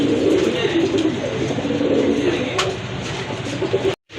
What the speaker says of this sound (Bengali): খুবই চমৎকার এক জোড়া রাজগোল্লা কবুতর